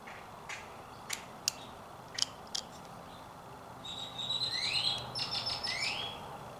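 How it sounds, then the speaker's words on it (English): Birds chirp outdoors, first with sharp isolated clicks and tweets, then a fuller run of quick warbling song, soft and somewhat distant. "Hear the birds."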